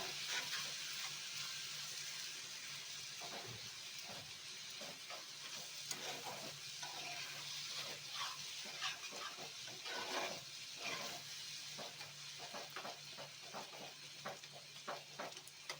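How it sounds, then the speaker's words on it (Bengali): Faint soft sizzling with scraping and stirring as boiled mango chutney is turned over in a pan with a spatula, a steady low hiss throughout. "এইভাবে খুন্তির সাহায্যে আমি এইভাবে ভালো করে এগুলোকে ঘেঁটে নেব"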